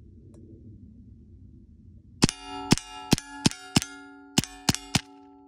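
A semi-automatic Evanix Viper airgun fired one-handed at a metal target. After a quiet start come eight sharp, ringing metallic clangs in quick, slightly uneven succession, each hit ringing out briefly.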